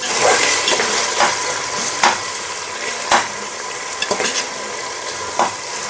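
Chopped tomatoes fry with ginger garlic paste in a hot pan, a steady close sizzle broken by repeated scraping stirs of a spoon against the metal.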